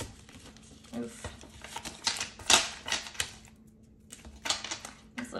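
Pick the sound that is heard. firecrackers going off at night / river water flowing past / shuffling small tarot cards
shuffling small tarot cards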